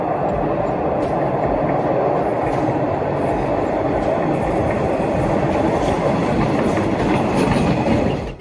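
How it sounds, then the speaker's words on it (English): An MBTA Orange Line subway train rolls through Roxbury Crossing station, a loud, continuous roar of iron wheels on rail with rattling, clattering ricochet from the track, sustained and close throughout before cutting off abruptly. "you can hear the iron-on-iron ricochet a lot better at Roxbury Crossing"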